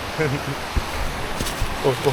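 A river flows through the Sumatra jungle, a steady watery rush running beneath people talking nearby.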